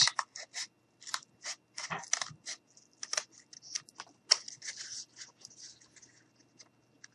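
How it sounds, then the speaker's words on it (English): Material for gnome boots is cut around its edge in a close, fairly quiet series of short, crisp snips that come in uneven bursts with brief pauses between them. "So what you see me doing now is just basically just cutting around the edge."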